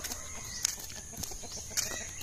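Brief bursts of chicken clucking and squawks as the chickens run from a dog, over faint background noise, a few sharp calls scattered across a couple of seconds.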